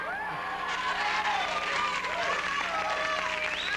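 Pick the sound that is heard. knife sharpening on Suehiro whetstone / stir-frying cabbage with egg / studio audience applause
studio audience applause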